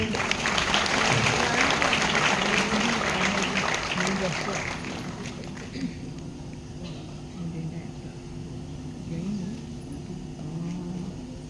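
Audience applause greeting the chief guest and his wife called onstage at a Tamil language festival before the ceremonial lamp lighting, dense clapping strongest in the first five seconds, then thinning into a softer patter with a voice over a speaker system.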